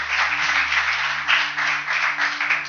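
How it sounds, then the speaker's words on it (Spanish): Church congregation applauding together, a steady dense wash of clapping with no pauses, loud and close throughout. "Y le damos un aplauso."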